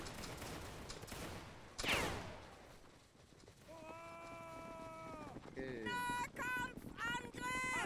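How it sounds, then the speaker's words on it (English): In a Napoleonic Waterloo battle game, a massed musket volley cracks out as one sharp, crackling burst. Drawn-out shouted voices and cheering follow a few seconds later. "We're going to quick volley. Present. Present, let's go. 3, 2, 1, fire."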